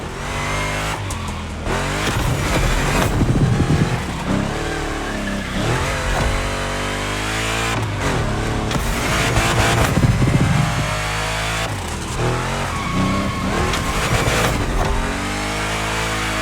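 A big-block chopper car in The Crew Motorfest revs hard and skids through a gymkhana run, with loud, sustained engine roar and repeated surges and tire squeals throughout.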